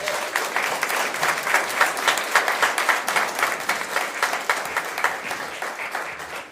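Audience applause for a criminal justice award recipient: thick, sustained clapping from a sizable room with a lively flutter of individual hands. The sound holds fairly loud for several seconds, then tapers off at the very end.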